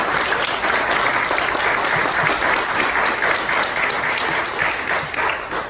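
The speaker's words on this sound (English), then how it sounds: "So a big round of applause to them for putting it on." A live game show audience at EGX Rezzed 2019 gives a loud, sustained round of applause, dense clapping filling the room steadily for several seconds.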